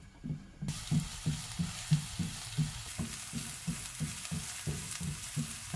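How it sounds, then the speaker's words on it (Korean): Chopped green onions sizzle in plenty of oil in a frying pan, a constant hiss that starts abruptly, with evenly spaced low thumps of a utensil stirring beneath it. "프라이팬에 기름을 충분히 두른 다음 파를 잘 볶아주세요."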